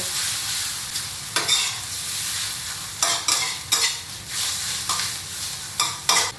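Close, continuous sizzling from a hot pan as cooked spaghetti is stir-fried, broken by several loud scraping tosses as the noodles are stirred and flipped; no voices.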